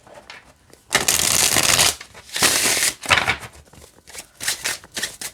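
Tarot cards being shuffled close up in several quick riffling bursts separated by short pauses, crisp and papery, with no talking.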